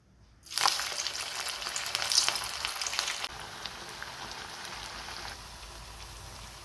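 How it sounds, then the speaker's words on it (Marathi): Sabudana vadas drop into hot oil and burst into a loud, crackling deep-fry sizzle. The sizzle is sharp at first, then settles into a steadier, softer bubbling hiss. "आता यामध्ये आपण वडे तळून घेऊयात"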